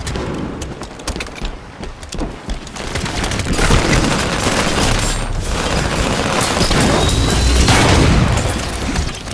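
A grenade thrown and detonating in Halo 5 Warzone, amid a dense, loud battle mix of booms, scattered gunfire and rumbling explosions that stays heavy throughout without any voices.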